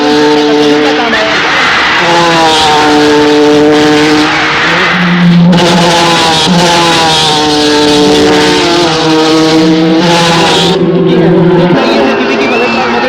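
Race cars roar past on a track in a film race scene, with revving engine tones climbing and falling, tire squeals and crowd noise, all under continuous excited commentary.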